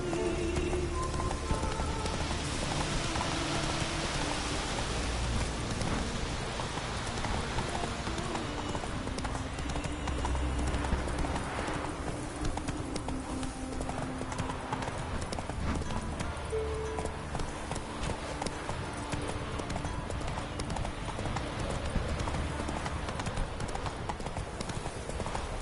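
Hooves of the horse Roach galloping in the fantasy game The Witcher 3, a faint continuous rhythmic clopping under a steady wash of ambient game noise and what sounds like rain, running throughout.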